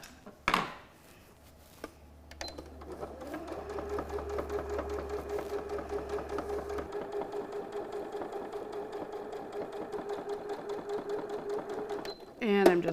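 A sewing machine attaching quilt binding runs in one long steady stitching stretch with a rising whir, close by, preceded by a few handling knocks and followed by a clunk at the end.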